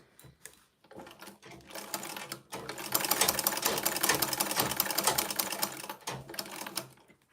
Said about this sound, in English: So I'm just going to normal sewing. Just sew around it first.